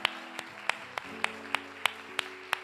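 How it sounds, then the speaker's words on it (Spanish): Rhythmic clapping at a women's church retreat, about nine sharp, evenly spaced claps in a steady beat over a low background hum, fairly close and clear. "Le damos un aplauso a las chicas."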